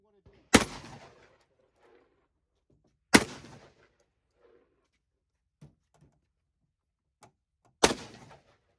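Three loud, sharp shotgun blasts from a Rock Island Armory VR80 at an outdoor range on a hot day, spaced a few seconds apart with brief echoing tails and faint clicks between.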